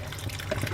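Beef stock made from a single stock cube in a pint of water is poured into a pan with rice for stuffed butternut squash, a brief close liquid trickle and splash with no talk.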